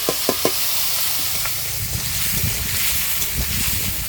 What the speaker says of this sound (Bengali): তেল গরম হয়ে গেছে, তেজপাতা আর নিচে কটা গোটা জিরে আছে তেলের মধ্যে দিয়ে দিচ্ছি